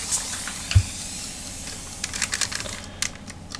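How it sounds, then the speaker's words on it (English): Several quick hissing sprays from a spray bottle misting an acrylic paint palette, short airy bursts spaced unevenly, with faint clicks and handling noises in a quiet room. "Just going to spray my palette really quick."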